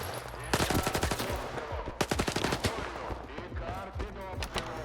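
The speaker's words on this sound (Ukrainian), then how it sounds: "Ти чого мене стріляєш?" Gunfire in the video game S.T.A.L.K.E.R. 2, loud close bursts of rapid automatic shots in several volleys separated by brief pauses, with a voice faintly audible between them.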